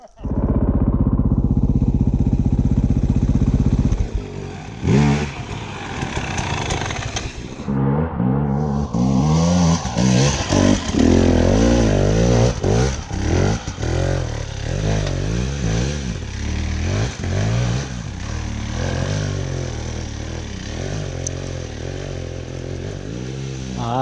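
A motorcycle on a steep off-road trail revs hard, first a loud sustained roar, then choppy bursts of throttle and clutch work with clattering, close and loud throughout.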